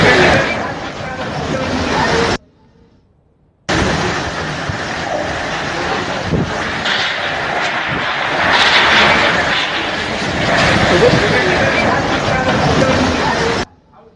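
A violent storm's wind roars loud and continuous, a dense broadband rush that surges and dips, with a brief cut near the start and a reporter's voice partly under it.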